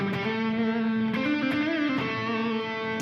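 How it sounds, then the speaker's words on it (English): An electric guitar played through a Maestro Invader Distortion pedal gives sustained, buzzy, harmonically rich distorted notes, with a pitch bend in the middle and a fresh attack near the end. "It is the Maestro Invader Distortion, and I just want to feature it for half a second here."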